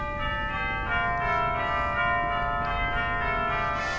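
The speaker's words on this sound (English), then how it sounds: "We've got beautiful chimes," Bell-like chimes from a large romantic pipe organ with 2300 pipes in a private home ring in sustained overlapping tones, moderately loud and clear, with no speech.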